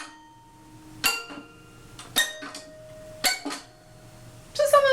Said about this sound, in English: Here I have little tiny clips, like little miniature clothesline pens, and they sound like this.